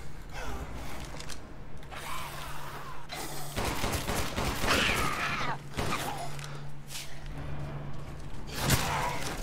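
Shotgun and handgun shots from the horror game Resident Evil Village, firing in loud repeated bursts over a constant low in-game drone, with creaking mechanical sounds between the shots.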